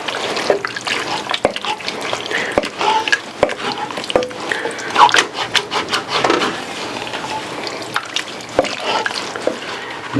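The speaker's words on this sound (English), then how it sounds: "Put our bacon back in. Give it a stir." A spoon stirs smoked truck stop chili with bacon in a pot, giving continuous wet scraping and sloshing with soft knocks against the pot, close and steady.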